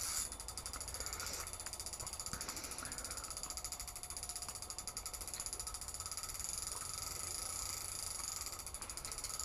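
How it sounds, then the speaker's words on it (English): Fishing reel drag clicking rapidly and steadily as a landlocked salmon pulls line while being jigged, a fast continuous ratcheting buzz, close and fairly quiet. "My drag's pretty tight, so I don't want to tighten it anymore."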